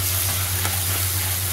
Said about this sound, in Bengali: এই মশলাটা ঢেলে দিচ্ছি।